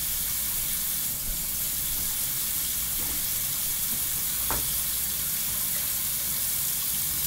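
Water runs steadily with a constant broadband hiss, broken by a couple of faint knocks.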